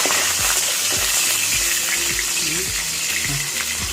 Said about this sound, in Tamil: இப்போ ஒரு 4 பச்சை மிளகாய் எடுத்து அதை பாதி பாதியாக வெட்டி அந்த எண்ணெயில் போட்டுடலாம்.